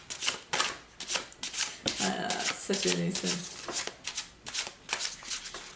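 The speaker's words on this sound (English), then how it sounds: "I just have such small hands that the shuffling is such a" Cards riffle and shuffle in quick, crisp bursts, close up, while someone talks over the rustling.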